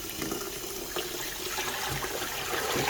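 Diluted Easy-Off rinse water being poured out in one steady, rushing stream, close and fairly loud, with no talking.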